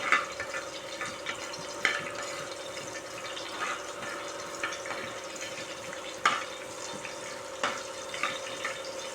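Ingredients for a fish curry fry in oil with a soft, low sizzle, broken by intermittent spoon scrapes and knocks against the pan, moderately quiet and with no speech.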